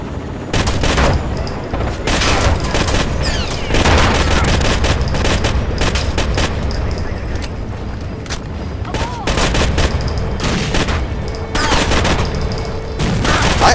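Rainbow Six: Vegas gunfire rattles in dense, loud volleys of rapid automatic shots and single cracks, nearly continuous throughout, with short gaps between bursts.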